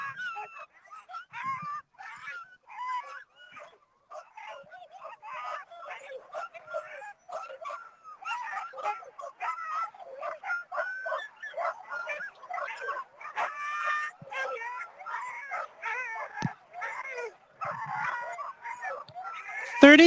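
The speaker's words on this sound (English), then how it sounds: "Jennifer's got 14 dogs on the tow line today." A sled dog team of fourteen dogs on the tow line, at the start of the GCI Open North American Championships race, yelps and howls in excited, overlapping bursts that grow busier, with a voice speaking at times.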